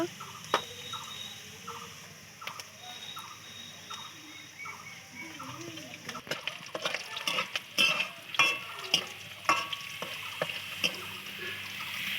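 Cumin seeds fry in hot oil with onion and bay leaf in a pan for a shrimp dish, giving a soft steady sizzle broken by repeated utensil clicks and scrapes, louder and busier toward the end.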